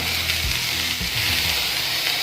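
Garlic frying in hot oil for mutton kulambu: a steady, loud, close sizzle, with low knocks and shuffles as the pieces settle.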